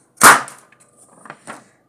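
A folded sheet of paper snapped open as a banger gives one loud, sharp crack, followed by a couple of fainter paper rustles and a smaller snap about a second later.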